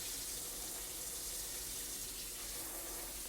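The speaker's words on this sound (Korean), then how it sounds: "싱크대 물소리를 듣고 계십니다, 여러분들은." Steady water running from a kitchen sink faucet, a continuous close broadband splashing hiss with no pauses, heard alone.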